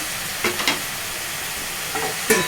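A spoon stirs spinach, green pea and spring onion curry in a pan over a constant loud hiss of frying, with a few brief scraping strokes rising above the sizzle and no talking.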